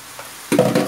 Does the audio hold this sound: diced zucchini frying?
yes